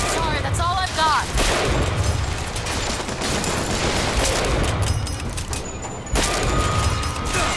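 Steady, dense gunfire rattles in Bioshock Infinite, a continuous barrage of overlapping shots and booms that stays loud throughout, with a few brief breaks in intensity.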